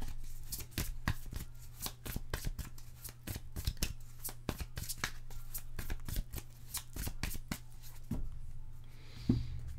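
Tarot cards shuffled by hand in a steady run of crisp, close riffling snaps, then a softer draw of cards near the end, with no talking over it.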